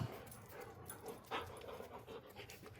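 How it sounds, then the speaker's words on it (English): A dog in a shop pants quickly and steadily, close by and fairly quiet, with a faint whimper mixed in partway through. "Hey, get down. You're not my shop dog."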